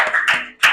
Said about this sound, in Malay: bagi tepukan untuk diri sendiri